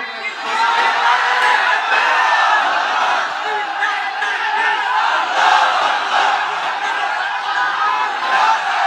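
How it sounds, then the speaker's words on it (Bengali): A gathered crowd at an Islamic religious sermon shouts a loud, sustained collective chant, many voices roaring together for several seconds at close range and holding steady throughout. "তাকবীর দেন তো একজন আওয়াজ করে"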